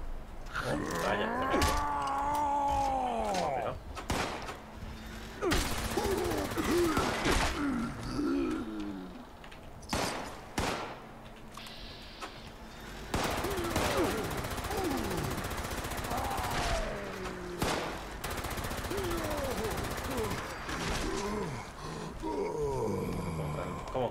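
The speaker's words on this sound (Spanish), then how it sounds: "También es que llevo la ametralladora esta." Machine gun fire in a video game, heard as several short bursts spread over a long stretch, mixed with creature-like screeches and other game sounds.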